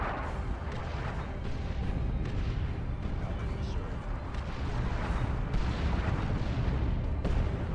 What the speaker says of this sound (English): The traitors are laying down a barrage to soften us up.